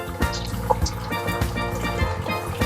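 An aquarium pump drives a strong current through a Brazilian turtle tank, giving a steady churning gurgle with bubbling, dripping splashes layered over a low hum, close and constant.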